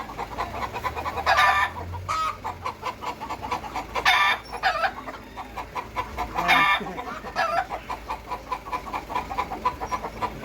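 Chickens cluck and squawk in several loud bursts, with a busy farmyard bustle of smaller clucks and rustling between them.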